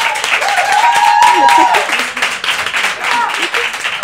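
An audience in a Catalan television studio bursts into applause and steady clapping, with scattered cheers from the crowd rising over the noise.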